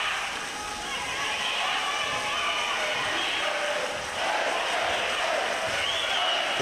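A Slovenian crowd at a women's EuroBasket 2017 basketball game against Serbia roars continuously in an arena, a dense, steady wash of cheering and shouting that swells slightly toward the end.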